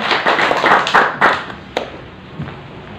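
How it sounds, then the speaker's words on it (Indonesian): A church congregation claps and cheers in praise, with a dense burst of close, loud applause that thins out after a couple of seconds into a few scattered claps. "Berikan sorak-sorai bagi Tuhan kita."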